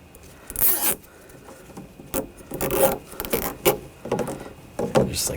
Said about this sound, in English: you want to wire tie this out of the way